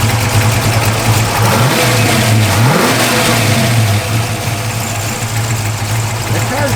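A 1967 Ford Mustang with a lumpy cam idles roughly and revs up and down a few times, loud and close, its choppy throb rising and falling throughout.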